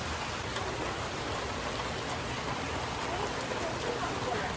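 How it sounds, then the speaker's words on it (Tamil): Steady rain falls outside in a constant dense hiss of drops, even and unbroken throughout, heard from indoors at moderate level with no voices. "பார்த்தா வெளியே சூப்பராக மழை பெஞ்சிட்டு இருந்துச்சு."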